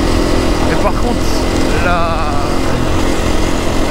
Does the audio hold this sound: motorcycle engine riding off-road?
yes